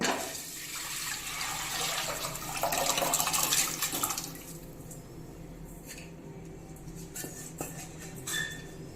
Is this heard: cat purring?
no